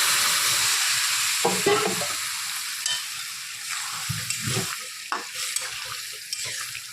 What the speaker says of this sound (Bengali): ডালটা দিয়ে একটু নেড়ে চেড়ে দিচ্ছি